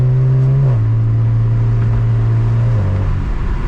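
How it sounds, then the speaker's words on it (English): A BMW 335i engine revs up and holds a steady high-pitched drone, loud and close, with a slight drop in pitch near the end and no talking. "Car sounds amazing though."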